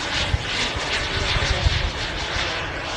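Engine of a radio-controlled model airplane flying a split S manoeuvre at an outdoor airshow field, a steady droning buzz that holds through the pass with faint wind rumble and small thumps underneath.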